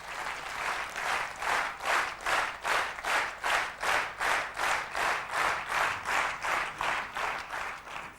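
An audience at a corporate induction program claps together in a steady, rhythmic beat, with about seventeen pulsing waves of many hands at roughly two per second, fairly loud and continuous, with no talking.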